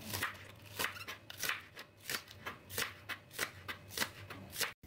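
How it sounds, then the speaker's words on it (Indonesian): A knife chops tomato and spring onion on a cutting board in a home kitchen, a steady run of a dozen or so crisp, close chops in quick even rhythm with no voices. "2 batang daun bawang dipotong-potong agak besar."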